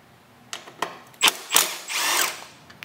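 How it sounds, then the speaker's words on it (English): Several short bursts from a power drill backing out Torx 40 riser bolts on a 2008-2013 Harley-Davidson Street Glide motorcycle, whirring spurts separated by pauses, close and fairly loud with no speech. "We're gonna remove our four riser bolts."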